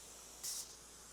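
A pressurized handheld sprayer discharges rinseless car wash solution onto a ceramic-coated vehicle in winter, a single short, faint hissing spray burst over quiet background noise.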